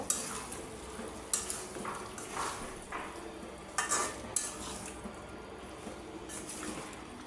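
Pumpkin sautéed with country chicken, green chillies, cloves, cardamom and cinnamon in a pan, a faint steady sizzle under intermittent scraping stirs, fairly quiet and without talk.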